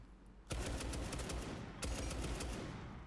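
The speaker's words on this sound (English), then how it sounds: "A gunshot down below." Rapid automatic gunfire in a Rainbow Six Siege esports match. Two loud, dense bursts of shots start abruptly and continue as a sustained, crackling fusillade with no talk over them.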